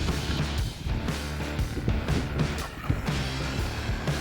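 An RC car runs at full throttle over bumpy grass, its motor whine mixed with rattling knocks and bumps, fairly faint and continuous.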